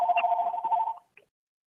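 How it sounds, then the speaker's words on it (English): A telephone rings during a county school board meeting, one trilling electronic burst lasting about a second, followed by a short chirp and a faint restart, heard clearly with no talking over it. "Wait, somebody needs to mute a phone."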